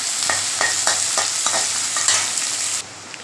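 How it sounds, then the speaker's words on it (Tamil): Onions sautéing in a pan for a Tamil-style meal maker gravy, a steady close hiss of frying broken by repeated scraping strokes of a spoon stirring, with no talking. "வெங்காயம் நல்லா வதங்கிட்டாங்க"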